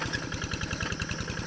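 A diesel tractor engine runs in a rural farming area of Bojonggenteng, Sukabumi, giving a steady, fast, rhythmic chugging at moderate volume with no voices.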